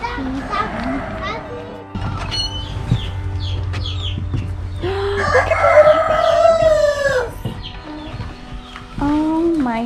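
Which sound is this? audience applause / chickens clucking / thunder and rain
chickens clucking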